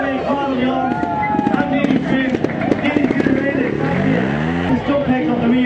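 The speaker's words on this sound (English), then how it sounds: "So here we go for the first stoppie of the show." A trials motorcycle revs and brakes hard onto its front wheel for a stoppie, its engine note rising and falling loudly and close, while an excited commentator talks over it throughout.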